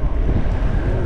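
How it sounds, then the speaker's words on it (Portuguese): Strong wind gusts buffet the microphone during a mountain bike race around a lagoon, a loud, continuous low roar with no voices. "Já começou aquele vento tradicional."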